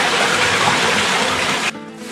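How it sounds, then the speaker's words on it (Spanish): A river in Gorbeia Natural Park rushing loudly and steadily as a close, dense roar of water, which drops abruptly to a quieter flow near the end. "Hemos dado con el río."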